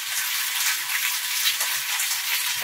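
Cumin seeds sizzling in hot oil while cooking a cauliflower, flat bean and potato fry, a steady bright crackling hiss with faint pops, close and continuous with no talking.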